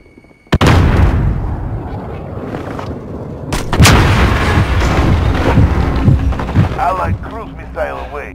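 A cruise missile strike in the Call of Duty Modern Warfare video game sets off a sudden heavy blast, then a second big explosion a few seconds later, with rumbling debris and scattered gunfire; an in-game announcer voice talks during it.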